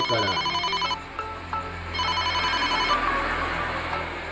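A mobile phone rings with a loud electronic ringtone in repeating one-second bursts of bright tones, with room noise and faint background sounds between the bursts.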